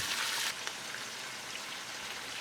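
Fish heads and bones fry over high heat in a pot with onion, garlic, chilies and ginger, giving a steady, even hiss of sizzling oil like light rain; the sound is quiet and continuous.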